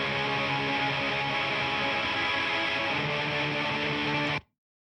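A distorted black metal guitar tone through a Mars D100 amp with a True K100 profile plays dense, buzzing, sustained strummed chords in stereo for about four seconds before cutting off abruptly to silence.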